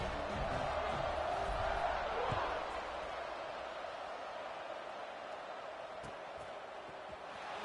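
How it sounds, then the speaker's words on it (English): A stadium crowd in a football video game buzzes steadily after a score, a loud broad roar at first that settles into a lower, continuous murmur. "this crowd is buzzing after that last score"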